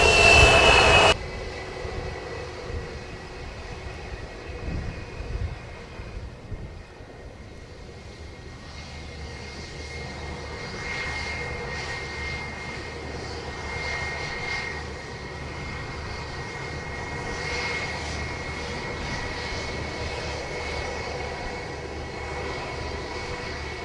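Airplane engine noise at Montego Bay airport in Jamaica, a steady moderate roar with a faint whine that holds for the whole span after a brief loud burst at the start, heard from a spotting position.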